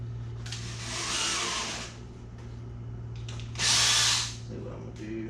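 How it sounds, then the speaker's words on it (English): A power drill whirs in two bursts while drilling a hole for a wooden gate, the second louder and higher-pitched, over a steady low hum with brief pauses between. "I could just drill a hole."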